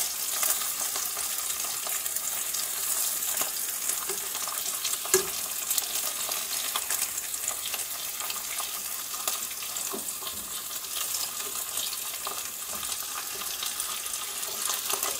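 Ham and potatoes fry in a pan with a soft, steady sizzle and crackle and occasional light clinks of a utensil, fairly quiet and close, with no talk.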